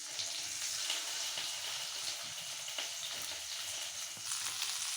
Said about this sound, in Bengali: কীরকম ফ্রাই হচ্ছে